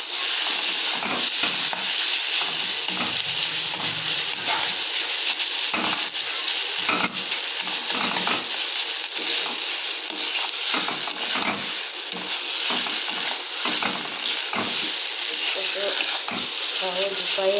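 A spatula stirs fried potato into beetroot mash in a pan, scraping and shuffling in steady, busy strokes over a constant soft sizzle, close and fairly loud throughout.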